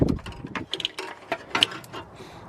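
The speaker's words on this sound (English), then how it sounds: "That's my New Britain Flex Head Ratchet." Quick, close clicks from a New Britain flex-head ratchet being worked during an oil change on a Toyota V6, a busy cluster of small metallic ticks without talking.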